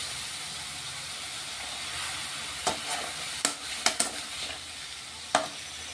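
Carrots and beans being stir-fried in a pan while making paneer Yippee noodles: a steady, close sizzle with several sharp scrapes and clicks of a spoon against the pan.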